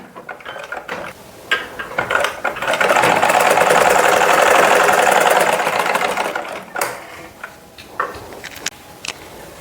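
A sewing machine stitches a folded neck edge on a garment, starting with a few short whirring bursts, then running in one long rapid rattling run before stopping and restarting in brief spurts, close up.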